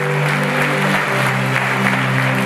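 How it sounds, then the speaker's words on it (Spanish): A church congregation applauds together at a sermon, a steady dense wash of clapping that holds at full strength without a break. "denle un fuerte aplauso"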